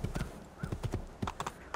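Horse hooves clip-clop in quick, regular steps in Assassin's Creed II, a brisk trotting rhythm heard clearly and fairly close, with no talk over it.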